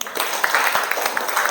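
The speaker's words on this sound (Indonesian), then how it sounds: "Baik, tepuk tangan." Classroom applause from vocational high school students during a teaching session, a steady wash of many hands clapping at moderate loudness for a short burst, with a faint voice underneath.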